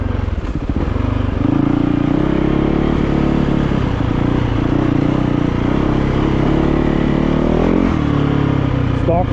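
Yamaha YZ450FX dirt bike fitted with a G2ergo throttle tamer, ridden at a steady cruise, its engine droning loud and continuous with small shifts in pitch throughout.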